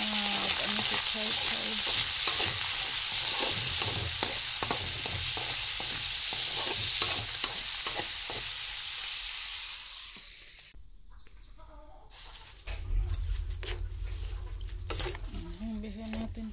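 Pancit being stirred as it fries in a pan, with crackling sizzle and repeated scraping stirs for about ten seconds, then a quieter stretch and a lower hum of cooking.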